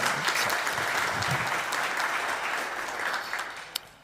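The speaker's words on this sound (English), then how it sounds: "Give him applause, please" An audience at the BalticNOG network operators' conference applauds a presenter, many hands clapping in a full, even wash that gradually softens toward the end, with one sharp louder clap near the finish.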